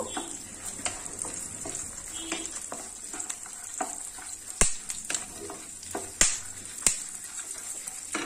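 Dry fruits and oats being stirred in a pan for sugar-free protein laddoos, a soft continuous frying hiss broken by a few sharp spoon taps against the pan.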